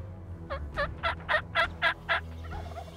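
A wild turkey gobbles during a spring spot-and-stalk hunt: one rolling gobble of about seven rapid, throaty pulses, moderately loud and somewhat distant, with no talk over it.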